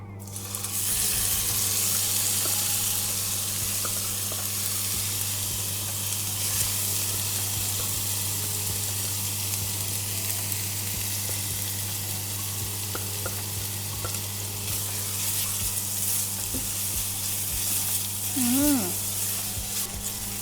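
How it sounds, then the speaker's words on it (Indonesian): Ground spice paste frying in hot oil for tuna balado, giving a steady, loud, unbroken sizzle that lasts throughout over a low constant hum, with no talk. "kayaknya minyaknya udah panas. Sekarang aku mau masukin bumbu yang sudah dihaluskan tadi"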